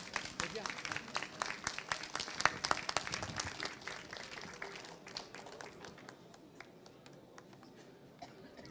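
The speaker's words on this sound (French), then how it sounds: "Applaudissements, Mesdames, Messieurs" Audience applauds at a cheque presentation to an association of elected municipal women in Côte-d'Or, France; crisp clapping swells at first, then gradually thins and fades, with a few scattered claps trailing at the end.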